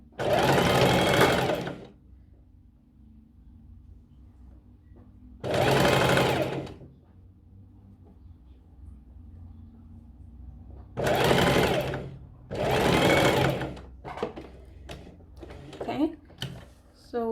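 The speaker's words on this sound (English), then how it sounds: "I'm going to stitch, making sure that every pleat is facing in this direction" A sewing machine runs along a pleated cushion cover seam in four loud, short bursts, the last two close together, with a low background hum and quieter handling in the gaps.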